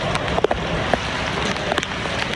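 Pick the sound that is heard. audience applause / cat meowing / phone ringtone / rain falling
rain falling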